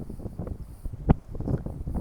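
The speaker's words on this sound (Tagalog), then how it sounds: "Lamig sobra ang hangin" Cold wind gusts outside a house on Maghorati Island, rumbling against the microphone in uneven buffets with a few sharp thumps.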